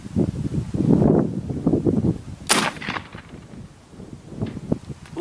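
AirForce Texan .457 air rifle firing at a distant metal target, one sharp crack cutting through low rumbling background noise, with faint knocks afterward.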